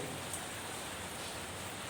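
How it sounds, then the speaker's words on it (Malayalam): Heavy rain pouring in Ernakulam, Kerala, a steady, dense broadband hiss of downpour continuing evenly throughout with no breaks and no voices. "എറണാകുളത്ത് മാത്രമല്ല കേരളത്തിൻ്റെ വിവിധ ഭാഗങ്ങളിലും അതിഭയങ്കരമായ രീതിയിൽ ശക്തമായ മഴയാണ് പെയ്തുകൊണ്ടിരിക്കുന്നത്"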